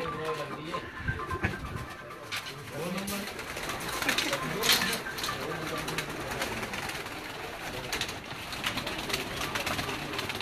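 Breeder pigeons coo in a backyard breeding setup, a low steady murmur of calls running throughout beside people talking nearby.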